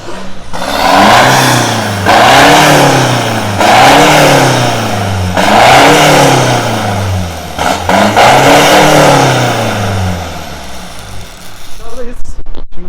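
A Ford Ranger 2.2 diesel pickup with a remote-controlled Varex exhaust in its loud mode revs up close, repeatedly and deeply, rising and falling four times before dropping to a rougher idle.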